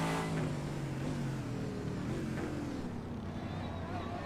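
A race car in a sim racing game at Daytona, a GT series round, drones steadily as it exits the pits, a loud continuous engine note with slight pitch shifts throughout.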